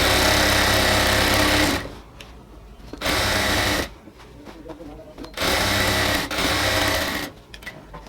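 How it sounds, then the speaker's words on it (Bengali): Sewing machine stitching elastic onto the waistband of ladies' pants, running in three loud bursts of steady whirring separated by short pauses, close by, with a voice faintly present in the gaps. "আমি অল্প অল্প করে ধরে ধরে সেলাইটা করে নিচ্ছি।"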